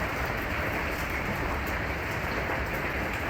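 Heavy rain pours down steadily during a storm in Texas, a dense, continuous hiss with no pauses and no voices.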